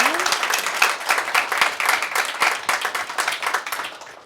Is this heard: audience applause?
yes